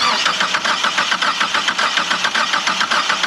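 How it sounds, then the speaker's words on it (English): A car engine churns in a fast, steady rhythmic pulse as the starter cranks in a parking lot, loud and close, without catching and settling into an idle. "Let us start the engine."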